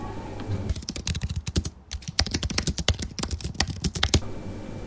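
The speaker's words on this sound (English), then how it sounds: "You have to press Alt and Enter on your keyboard" Rapid keystrokes on a computer keyboard clatter close by in quick bursts, with a brief pause midway before the typing resumes and then stops.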